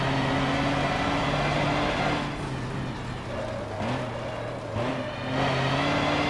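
Engine of a truck in the racing game Forza Motorsport 7, a steady droning rev that dips and swells a few times as the vehicle shifts and accelerates, fairly loud with no talk over it.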